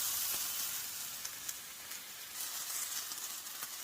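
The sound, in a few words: onion and mushroom stems sizzling in frying pan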